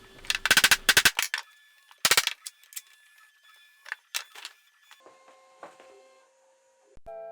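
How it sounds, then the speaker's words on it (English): A flooring mallet bangs down on wooden round tabletop pieces held in clamps, sharp loud knocks in quick bursts of several blows, then sparser lighter taps with ringing tails. "I'm using a flooring mallet to bang the pieces down in case any of them are starting to pop up"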